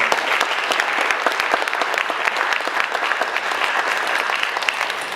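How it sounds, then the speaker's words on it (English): Audience applause at a Democratic mayoral candidate forum, a dense, steady patter of many hands clapping at moderate loudness for about five seconds with no speech. "Give a round of applause."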